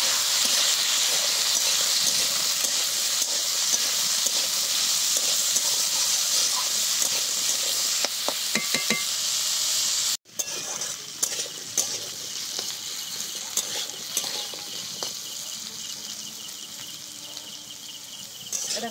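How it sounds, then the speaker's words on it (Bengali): Cut potatoes fry in a pan with a loud, steady hiss that drops off abruptly partway through, followed by quieter crackling and occasional scraping, close by with no talking. "এবার দিয়ে দিচ্ছি কেটে রাখা আলু। আলুটাকে আগে খুব ভালো করে ভেজে নেব"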